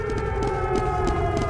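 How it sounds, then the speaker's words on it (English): A siren from the Slender Fortress mode of Team Fortress 2 drones continuously, a sustained tonal wail with pulsing bursts, loud and steady throughout. "the siren would be much better if they replaced it with the Niku Niku Ni one"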